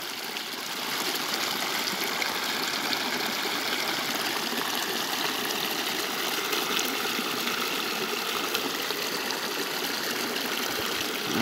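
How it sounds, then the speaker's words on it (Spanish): A stream runs steadily past springs and bubbling outflows, a constant broad rushing and trickling of water that holds close and fairly loud throughout, with no talking. "Ahí corre el agua por todo acá."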